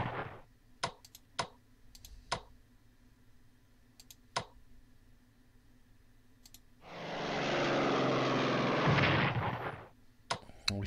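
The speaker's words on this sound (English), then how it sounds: "The artillery piece is really hurting me." Artillery fire from a Strategic Command World War I strategy game: a long, loud roaring blast swells and fades in the middle, with sharp mouse clicks scattered before and after it.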